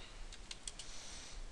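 Someone types on a computer keyboard in a quiet room. A short, faint burst of a few light keystroke clicks sits over soft background hiss.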